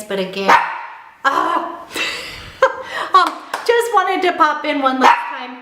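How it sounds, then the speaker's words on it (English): A small dog barks several times in short, sharp yelps indoors, interrupting and overlapping a person talking at close range. "Stop it, little dog"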